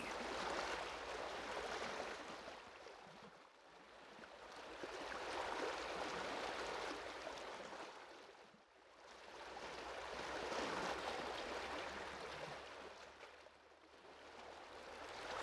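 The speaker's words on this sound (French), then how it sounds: "Et ressentez maintenant le son apaisant des vagues." Soft, distant ocean waves wash in and recede in slow, even swells about every five seconds, a faint breathy hiss with no voices over it.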